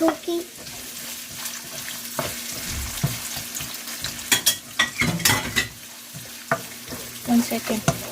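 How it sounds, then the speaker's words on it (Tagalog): Onions fry in a pan for fried rice, a steady sizzle broken by scraping stirs and clinks of a utensil against the pan, close and fairly quiet. "Sunod, ilagay natin ang sibuyas"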